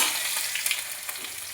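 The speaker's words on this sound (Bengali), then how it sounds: "আলু বেগুন ভাজা হচ্ছে এখানে" Potato and eggplant frying in a pan, a steady close crackling sizzle with faint stirring scrapes, no voices.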